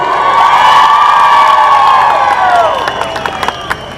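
A rally crowd cheers and applauds for MP Raju Bisht, the Gorkha leader, at a BJP event in Darjeeling, with loud sustained shouting and whooping that trails off while scattered claps continue near the end.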